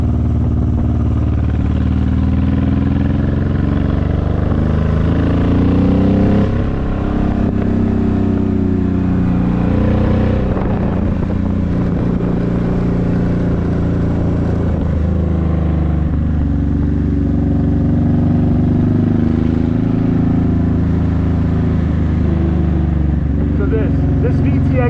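Honda VTX1800 cruiser motorcycle, about 750 pounds, riding up winding mountain roads; a steady engine drone runs throughout at close range with a rider talking over it.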